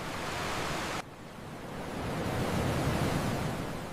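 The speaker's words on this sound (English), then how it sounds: "The waves are big." Ocean waves on a sunny summer beach, a constant loud, broadband wash of surf with a brief dip before it swells again, and no voices.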